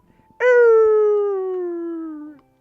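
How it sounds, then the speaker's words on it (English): A single long wolf-like howl from a Zelda video game, loud and clean, starting abruptly and sliding slowly down in pitch for about two seconds before cutting off. "What is that howling?"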